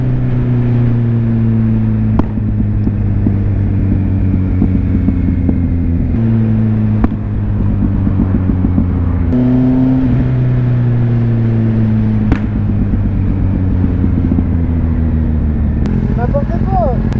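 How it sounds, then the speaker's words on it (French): A loud motorbike engine idles and revs in repeated surges, with a few sharp clicks, close by and sustained throughout. "Qu'on fasse rugir le moteur un peu là."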